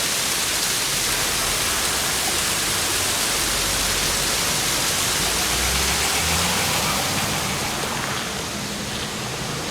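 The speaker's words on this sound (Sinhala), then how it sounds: "මේ තියෙන්නේ දියල්." A waterfall at Mandaram Nuwara pours in a steady, dense broadband roar that stays constant and loud throughout, with no voices over it.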